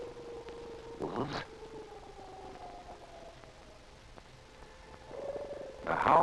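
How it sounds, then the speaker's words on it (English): Wolves howling in the Arctic wilderness, faint and distant: long, thin wavering tones drift and slide in pitch over a quiet hiss, with a couple of brief louder bursts. "The howl of wolves usually denotes nearness of game."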